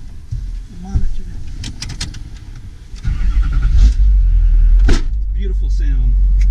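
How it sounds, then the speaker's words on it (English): Duramax diesel swapped into an H2 Hummer, revving with loud low engine roar that builds and holds, a turbo whine winding up over it, with brief talk early on and a sharp knock near the end. "You hear the little turbo wind up and stuff like that."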